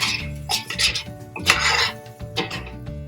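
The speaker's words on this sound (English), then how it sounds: "Once you add the masala, stir continuously because it will start making it to stick to the pan." A spoon scrapes and clatters against a pan as masala for boneless curry leaves chicken biryani is stirred continuously, producing close, uneven bursts of rasping and metallic knocks with brief pauses between strokes.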